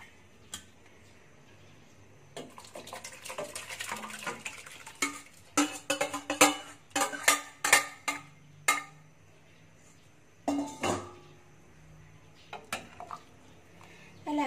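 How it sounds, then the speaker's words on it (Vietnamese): Metal pot and utensil clinks while chicken and shiitake mushroom porridge goes into a cooking pot: scattered sharp taps, then clustered bursts of clatter with quiet gaps between. "mình sẽ cho cái gô cháo này vào các bạn ha"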